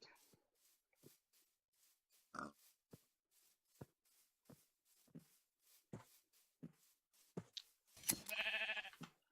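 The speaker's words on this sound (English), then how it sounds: "There's a sheep." Sheep bleating in the Minecraft 1.14 video game, a short harmonic bleat near the end, after a string of brief clicky in-game sounds with no talk.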